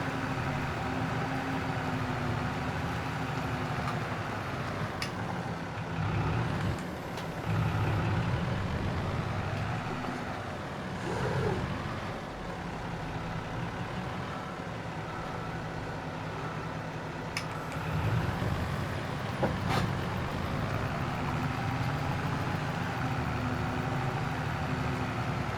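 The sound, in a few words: tractor engine working in Farming Simulator 22 video game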